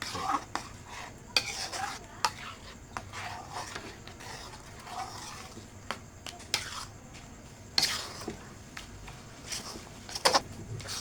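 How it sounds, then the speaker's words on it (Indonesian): Siomay dough being stirred in a pot on a stove, with repeated scraping and knocking of the spoon against the pot, some sharp clicks standing out, steady and close. "Kita aduk sampai menggumpal ya."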